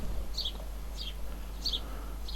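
A tit calls near an old apple tree, giving a short series of thin, high chirps at a regular pace. The calls sound moderately close over a steady low outdoor hum.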